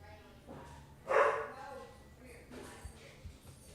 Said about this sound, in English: So if you guys can hear the dog.